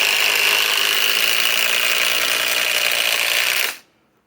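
A RIDGID 2400 inch-pound 4-mode impact driver on a 3 amp Octane battery runs in one steady, loud, high-pitched whir for nearly four seconds, then cuts off abruptly.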